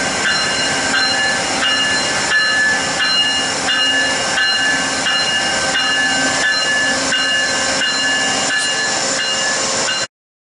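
A steam locomotive chuffs in a steady rhythm beneath a continuous hiss and sustained whistle tones, loud and close, then cutting off abruptly.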